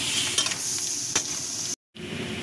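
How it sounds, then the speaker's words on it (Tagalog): Crab with pepper is stirred and sizzling in a pan, with a steady frying hiss and a few scraping strokes, cut off by a brief moment of silence. "haluin lang po natin hanggang maluto yung ating crab"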